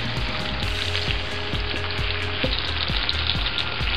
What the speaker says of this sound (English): I'm gonna stir the shrimp in a little bit.